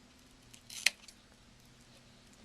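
Scissors snip once through a strip of scratchy Velcro, a single sharp close cut over a quiet room background.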